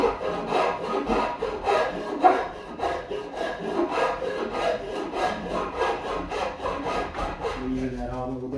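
A rasp files a cut-back angle on a wooden bed frame part to round the edge, giving steady rhythmic back-and-forth scraping strokes, close and fairly loud throughout, with no talking.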